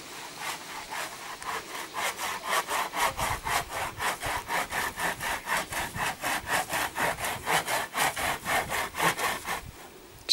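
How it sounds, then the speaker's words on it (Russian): Hand saw cutting through pear wood outdoors, a steady rhythmic back-and-forth rasp of about twenty even strokes, loud and close, ending with a final sharp knock. "Пилите грушу, она золотая."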